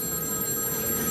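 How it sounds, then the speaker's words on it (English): Telephone bell ringing on a late-night TV studio set, a continuous electronic trill against background room noise. "the phone is ringing, huh?"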